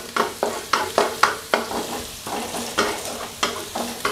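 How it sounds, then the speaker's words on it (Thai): Chopped garlic stir-fried in oil, rhythmic spatula strokes scraping the pan about twice a second over a steady close sizzle, no voices. "เดี๋ยวเราจะใส่ลงไปแล้วก็ผัด กระเทียมสักครู่นะครับให้เริ่มหอมก่อนนะครับ"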